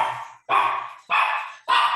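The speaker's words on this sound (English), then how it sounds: "Whose dog is that?" A dog barks three times in a slow, evenly spaced series, each bark loud, close and sustained, with no talk over it.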